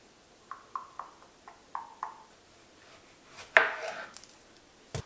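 A knife cuts through tomatoes on a board at a wedding food station, trimming the ends and then slicing down the center, giving several soft separate taps followed by one louder crunchy cut and a final sharp knock.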